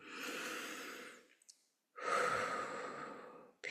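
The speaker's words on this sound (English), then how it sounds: "Grab your wrist, deep breath in." Two slow, deep inhalations drawn close to the microphone, each a soft airy rush lasting over a second, separated by a brief quiet pause, with a faint breathy catch at the end.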